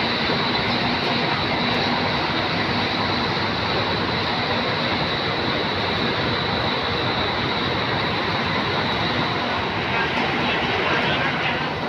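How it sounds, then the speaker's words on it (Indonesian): A new Sinar Jaya bus pulls out of a busy terminal, its loud, steady engine rumble filling the scene without a break while voices murmur faintly in the background. "Akhirnya 27DD diberangkatkan ya, Abasa sama Pak Riki."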